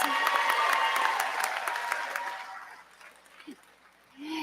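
Applause from the audience at a commencement ceremony, a loud burst of many hands clapping that gradually fades out over about three seconds, followed by a few brief vocal sounds.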